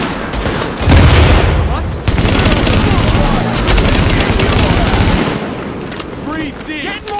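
Dense automatic gunfire in Tom Clancy's The Division, sustained bursts crackling loudly and close, thinning out toward the end, with brief in-game voices over the shooting.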